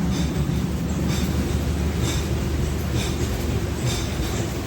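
A passenger train pulls out of Kalaburagi station, heard from inside a coach as a loud, steady rumble of wheels and carriage noise with faint periodic clicks, continuous and without talk.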